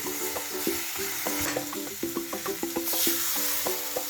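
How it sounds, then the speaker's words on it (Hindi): Boiled mustard greens (saag) being sautéed and stirred in a pan, with a steady soft sizzle and repeated scraping, clattering stirs throughout, close and moderately loud. "अब हम इसको डाल के इसमें अच्छी तरह भूनेंगे।"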